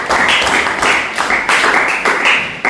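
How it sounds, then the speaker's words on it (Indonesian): Classmates applaud after a group presentation in a classroom, a short burst of brisk, loud hand clapping in uneven pulses. "Tepuk tangan untuk temannya."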